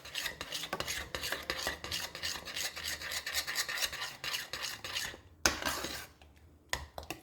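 Steady scraping and rasping of a utensil stirring inside a pot while making a quiche, continuous and close for several seconds, then stopping in a few short scrapes near the end.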